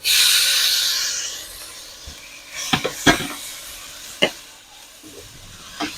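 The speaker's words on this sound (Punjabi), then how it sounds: "ਗੰਡੇ ਗੰਡੇ ਆਪਾਂ ਭੁੰਨ ਲਾਂਗੇ" Chopped onions frying in a pan with already browned ginger and garlic: a loud hiss at the start that fades into a low sizzle, broken by a few sharp scraping clatters of stirring, with no talking.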